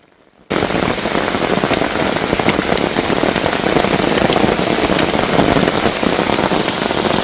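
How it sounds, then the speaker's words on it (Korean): Heavy rain pours down on a forest trekking trail beside a deep valley, starting abruptly after a brief quiet moment and then a dense, steady hiss of drops that stays loud and even throughout, with no talk. "갑자기 빗방울이 굵어지면서 장대비가 쏟아집니다"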